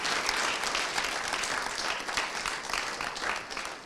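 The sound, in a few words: audience applauding the finalists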